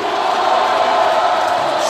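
Futsal supporters of Supermercado Tinoco fill an indoor court with a steady, dense crowd roar, a constant wash of voices and shouts at even loudness throughout.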